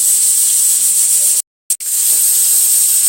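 A small pressure cooker cooking beans vents a steady, loud hiss of steam that cuts out abruptly for a moment, then resumes just as strong.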